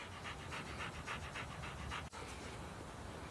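A tired dog pants hard and fast on a hot day during a hike up a long stairway, the quick rhythmic breaths close and steady with no talking.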